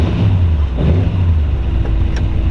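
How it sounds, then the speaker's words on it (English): A hopped-up 239 Flathead V8 with a five-speed in a 1936 Ford Cabriolet retro rod with dual exhaust rumbles at a steady idle, a continuous low, close engine burble with no talking. "Nothing like the sound of a Flathead V8, that's for sure."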